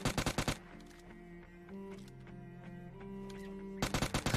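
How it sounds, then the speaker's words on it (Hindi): Bursts of rapid UMP submachine gun fire in PUBG Lite, a quick rattling spray at the start and another at the end, with game music and ambient tones in between. "उसको थोड़ा स्प्रे दूंगी यूएमपी से"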